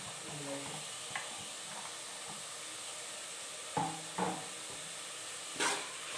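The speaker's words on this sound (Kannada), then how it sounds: "ಅದು ಫ್ರೈ ಆದಮೇಲೆ ಸ್ವಲ್ಪ ಹಸಿ ಕಳ್ಳು ಬಟಾಣಿಯನ್ನು ಹಾಕ್ಕೊಳ್ತಾ ಇದ್ದೀನಿ." Fresh green peas fry with masala in a pan for mushroom biryani, a soft steady sizzle with occasional spatula knocks and scrapes close by.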